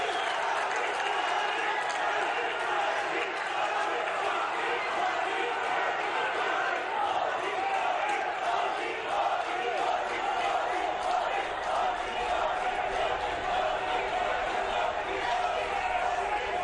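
Loud, sustained applause and crowd noise fill a large political rally in Uttarakhand honoring Indian Prime Minister Narendra Modi, a dense steady roar of clapping and cheering with no pauses throughout.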